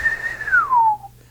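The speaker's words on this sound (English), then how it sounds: "So I answer back whistling." A man whistles a Mazatec word in whistled speech, a single clear, close, sustained tone that holds level then glides smoothly downward before stopping, about a second long.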